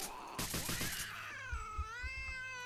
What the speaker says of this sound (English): Shit, the cat. Cat, cat.